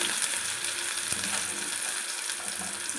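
Yellow, red and green capsicum frying in hot oil, a steady dense sizzle with crackling spits, loud and close throughout with no talking.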